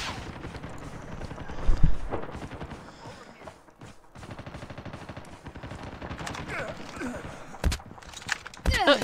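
Rapid gunfire in a video game clan war battle, with sharp single shots and automatic bursts popping at close range, scattered across the clip and layered under occasional speech.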